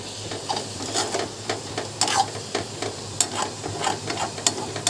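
Chili added to a pan of laal saag (red amaranth greens) sizzles steadily while a spoon stirs and scrapes, giving irregular soft clatters over continuous frying hiss.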